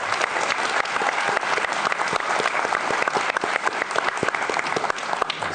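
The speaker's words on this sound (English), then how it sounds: "So let's give them a round of applause." A live audience claps steadily for panelists on stage at a tech conference, dense, sustained applause filling the room throughout with no talk over it.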